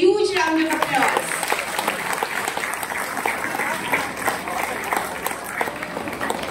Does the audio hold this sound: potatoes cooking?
no